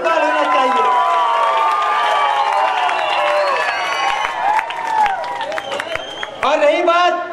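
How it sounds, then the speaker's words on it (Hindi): A crowd at a political rally in Malegaon breaks into applause and cheering, claps and shouts running throughout with a fresh loud burst near the end. "जोरदार तालियों में इस्तकबाल होना चाहिए"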